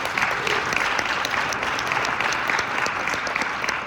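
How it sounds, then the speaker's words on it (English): Audience applause for a panel of speakers at a business talk, a steady, dense wash of clapping from many hands that holds evenly throughout without any voices. "can we give a round of applause for our amazing panelists?"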